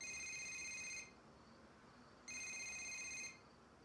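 A telephone rings in two bursts with a pause between them, a steady electronic trill heard alone at low level in a dubbed Tamil film scene.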